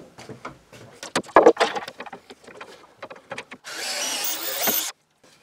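Scattered knocks and handling clatter of wooden pieces give way to a steady whirring burst of about a second as a 6 mm bit drills dowel holes into the wood of a picture-frame joint, then stops abruptly.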